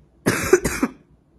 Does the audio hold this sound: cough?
yes